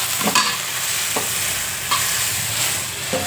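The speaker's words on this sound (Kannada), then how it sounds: "ಒಗ್ಗರಣೆ ಹಾಕಿದ್ನಲ್ಲ ಅದನ್ನು ಹಾಕ್ತಾಯಿದ್ದೀನಿ" Steady hissing sizzle of tempering spices hitting hot oil, close and fairly loud, with a few sharp spoon clinks against the pan.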